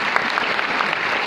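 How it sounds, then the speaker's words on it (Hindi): Audience at a Vestige success seminar breaking into loud, dense applause, a continuous wash of many hands clapping close by with no voices standing out. "जोरदार ताली चाहूँगा दोस्तों"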